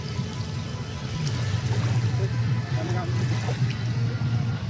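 Boat ride on the Hirakud dam reservoir near Sambalpur, a steady low motor hum and water wash running close and continuous for the whole stretch, with a brief light knock near the start.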